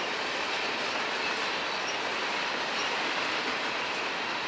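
A CSX freight train of boxcars rolls past at Fortville on the Indianapolis Line, a steady, loud wash of wheel and rail noise with faint squeals and clicks, continuous throughout with no voices.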